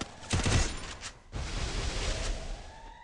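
Rapid bursts of gunfire in the Free Fire battle royale game, a close volley followed by a sustained stretch of continuous shooting.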